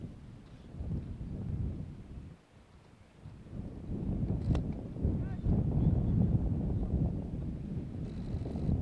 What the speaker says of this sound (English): it is pretty windy today at Horsham